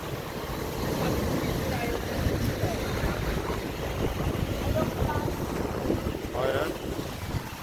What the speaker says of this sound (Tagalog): Palakas ng alon ngayon